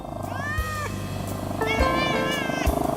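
Domestic cat meowing twice in rising, drawn-out calls over a steady low purr, close and moderately quiet.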